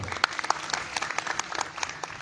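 An audience claps to welcome a speaker to the stage, a short burst of scattered, moderately close handclaps with uneven rhythm and no talk over it.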